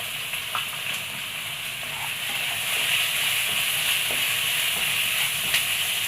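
Two long-sliced onions fry in about two tablespoons of coconut oil in a kadai, giving a steady, fairly loud sizzle and hiss with faint stirring ticks, growing slightly louder partway through, with no voices.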